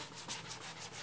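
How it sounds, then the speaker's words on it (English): Sanding a painted car body by hand to take off a guide coat while repairing gouged and chipped paint makes a soft, rhythmic abrasive rubbing with a few quick strokes close by. "you want to keep sanding until those are out"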